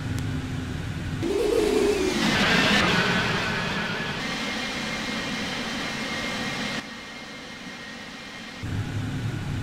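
Boeing 787-9 jet engines spooling up for an Ethiopian departure from Bole airport, runway 25 right, in a flight simulator: a rising engine whine swells into a steady, loud roar that fades slightly, then drops away briefly before returning.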